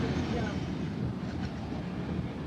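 A train engine rumbles past on the rails near a tunnel and river, a steady loud low roar with faint clickety-clack throughout.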